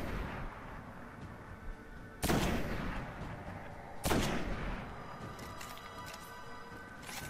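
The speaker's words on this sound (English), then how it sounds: "Let's go sniping." Two loud, sharp sniper rifle shots in the video game Destiny, about two seconds apart, each with a booming echo that trails off over a steady outdoor background.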